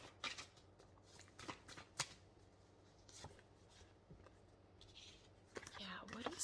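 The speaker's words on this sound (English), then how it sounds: "I'm going to pull one more card before I ramble." A card drawn from a tarot-style deck during an intuitive reading, with soft shuffling and sliding card sounds in brief bursts, close and quiet, with faint murmured speech.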